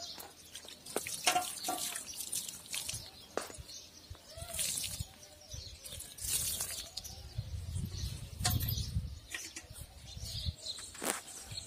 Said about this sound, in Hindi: और इसके ऊपर अभी थोड़ा पानी डाल देते हैं।